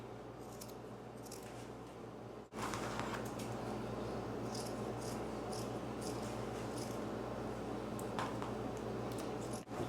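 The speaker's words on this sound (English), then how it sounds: "I'm going to go ahead and cut off the arms first." Scissors snip through the knit arms of an old sweater, faint crisp cuts scattered over a quiet room hum, with a brief pause early on.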